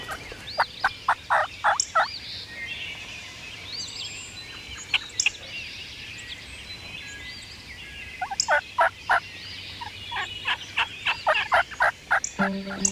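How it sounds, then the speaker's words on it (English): A wild turkey in a spring hunting woods gobbles in repeated rattling bursts, close and loud at the start, then again in several rapid runs later, over faint outdoor ambience with no talk. "the turkey's just gobbled right behind them"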